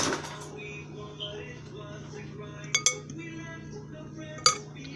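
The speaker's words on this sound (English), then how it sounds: "Using fork until blended." A fork clinks and scrapes against a bowl while mixing gingerbread muffin batter, giving a few bright metallic taps over a steady low hum in a kitchen.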